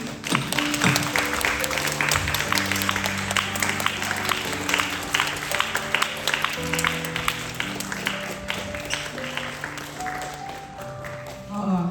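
A church youth congregation at a worship service applauds at length, a steady wash of clapping with voices and music sounding underneath.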